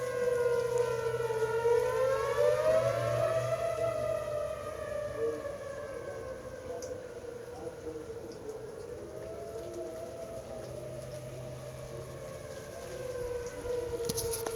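A tornado warning siren carries from a golf course northwest of Topeka, Kansas, under rotating storm clouds: a distant rising and falling wail that sweeps up and slowly winds down across the clip, with faint rain-like hiss and no talk.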